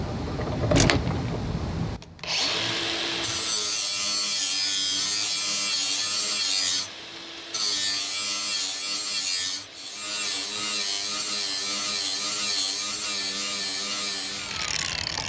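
A GSTP sharpener grinds a lawn-mower blade up close, giving a loud, steady, high motor whine with a grinding rasp that breaks off briefly twice before resuming.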